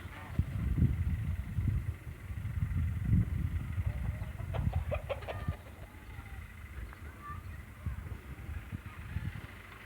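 Chickens cluck softly and intermittently nearby on a farm, with a few sharper calls in the middle, while someone talks over the farmyard background.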